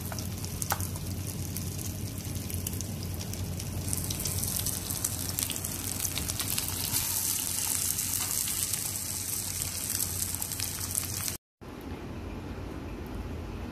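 Shami kebabs fry in a pan with a steady, dense sizzle and crackle that holds at an even level throughout, broken by a brief cut near the end, with no talking.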